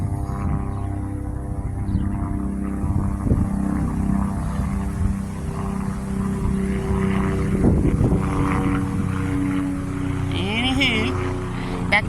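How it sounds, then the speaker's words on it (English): A helicopter drones steadily overhead with a throbbing rotor hum, while people talk nearby. "There's a helicopter."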